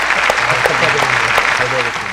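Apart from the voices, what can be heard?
applause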